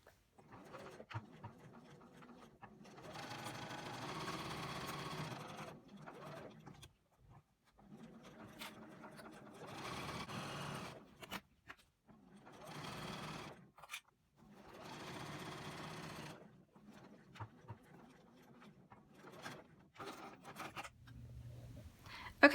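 Sewing machine stitching canvas drop cloth into a tote bag, several bursts of steady motor hum with short pauses between runs, close and fairly quiet with no talk.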